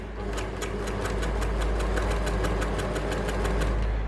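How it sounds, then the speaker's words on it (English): An overlocker sewing machine trims fabric edges with its blade, running loud and steady with a fast, even mechanical stitching rhythm throughout. "Lifting up our overlocker foot, placing the fabric close to the blade as possible so that the blade can trim off the"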